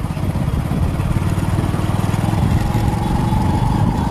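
A motorcycle engine runs steadily on a road trip near Jalore, a loud close chugging drone with a fast even pulse, with a voice faintly underneath.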